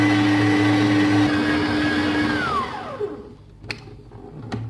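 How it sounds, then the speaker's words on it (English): Electric stand mixer kneading doughnut dough at low to medium speed, a steady loud motor whine with a constant hum that drops in pitch and winds down near the end, followed by a few faint clicks. "Then I'll start mixing on a very low speed. And at this stage, you could increase to a medium speed."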